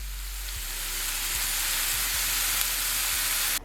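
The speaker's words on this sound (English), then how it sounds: "we're gonna cook this down so all those mushrooms release their moisture" Mushrooms cooking down in a hot pan, releasing their moisture with a steady, close sizzle and hiss that holds for several seconds before cutting off abruptly, with no voices.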